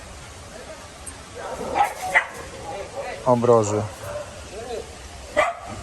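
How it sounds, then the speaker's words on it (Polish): Dogs at an animal shelter in Thailand give a few short barks and yips, fairly close, alongside someone speaking Polish and other voices. "Następnie pies jest wpuszczany z tej strony"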